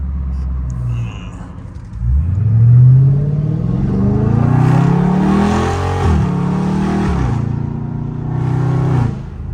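A loud Dodge Scat Pack V8 revs hard in traffic, starting from a low idle rumble, then climbing through a long surge and several more throttle blips. The engine sits close and dominant throughout.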